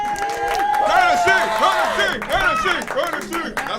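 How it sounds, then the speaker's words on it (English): A live audience claps along to a performer's tunes at a show, with crowd noise, whoops and voices mixed through the steady rhythmic clapping. "Everybody clap!"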